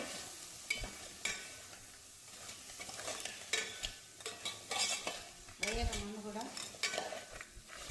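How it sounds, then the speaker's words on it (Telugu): Spicy crab fry being stirred with turmeric in a pan, a soft sizzle under repeated scraping and clinking of a spoon against metal, with a brief low whistle-like sound midway; a voice speaks quietly over it. "కొంచెం పసుపు యాడ్ చేసి మళ్ళీ కలిపేసుకొని"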